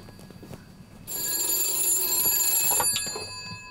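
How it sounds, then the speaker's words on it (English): A telephone rings in a jungle celebrity camp: after a quiet moment with faint background sounds, one loud, bright electronic ring starts and lasts nearly two seconds before cutting off. "Phone's ringing."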